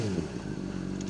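A 2007 Honda CBR600RR sport bike with a stock-style exhaust drones steadily up close, a dense buzzing engine note with slight clatter and no talk.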